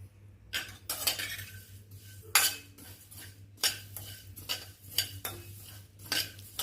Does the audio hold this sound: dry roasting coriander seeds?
yes